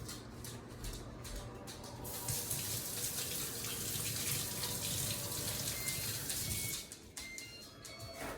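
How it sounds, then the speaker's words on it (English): Tap water runs steadily into a kitchen sink while hands are washed, a continuous close splashing rush that starts after a brief moment and cuts off near the end. "I'll wash my hands."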